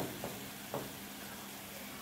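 Garlic-ginger paste sizzles in hot oil with golden fried onions, a faint steady frying hiss with two soft stirring bumps early on.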